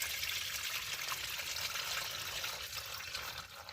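Motor oil gushing from the large drain plug of a Ford 9N tractor during an oil change, a steady, fairly loud liquid pour and trickle that runs on without a break and fades slightly toward the end.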